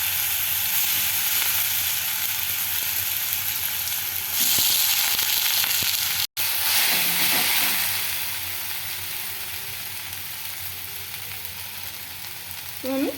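Grated carrot, capsicum, cabbage and green chillies fry in plenty of hot oil in a kadai, a loud, steady close sizzle with a brief cutout midway that then settles a little quieter.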